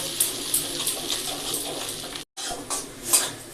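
A ginger, green chili and cumin paste is sautéed with tomato in a pan, giving a continuous wet sizzle with light utensil scrapes and a brief dropout midway, no voices.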